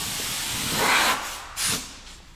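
Two bursts of compressed air from a blower aimed at a stripped truck engine part, a longer hiss followed by a shorter one after a brief gap, over a low background hum.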